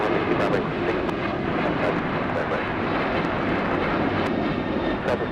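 An Alaska Airlines Boeing 737 at Los Angeles International Airport, a loud, steady jet engine roar with a broad rushing wash that holds close throughout.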